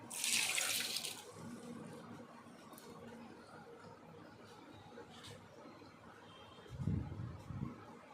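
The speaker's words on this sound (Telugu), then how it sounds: "దీనికి కొంచెం నీళ్లు పోసుకుంటున్నాను." Water is poured into a mixer jar of beetroot for juice: a splashy gush in the first second, then quiet kitchen handling with a couple of low thumps near the end.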